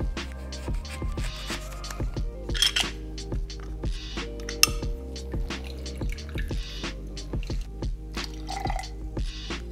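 Fresh lemon juice poured for a cocktail, a thin trickle with a steady run of drips and small clinks of glass and bar tools, close and moderately loud, with no talk.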